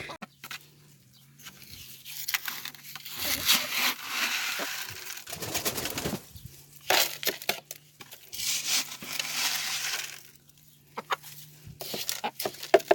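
Several chickens, including a golden laced Wyandotte, cluck and call close by while grit is scattered for them, with rustling and crinkling of grit from a bucket between the bird sounds.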